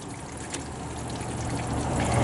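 Fluid drains out of a car's oil pan into a drain pan in a garage, a continuous pouring trickle that grows steadily fuller and louder.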